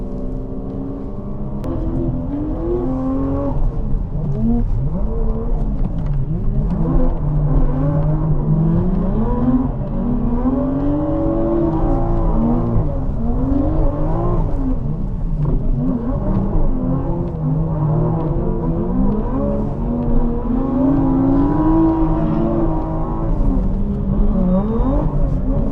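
A drift car's engine revs continuously in a long run, pitch swooping up and down as the clutch is half-engaged and released, loud and close with a steady droning whir throughout.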